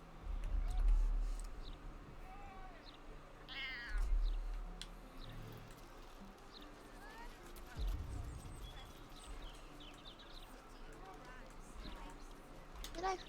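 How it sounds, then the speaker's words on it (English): A cat meows a few times in the video game Baldur's Gate 3, short faint calls scattered among quiet game ambience and soft footsteps. "The cat seems to be trying very hard to remain aloof, and not wholly succeeding."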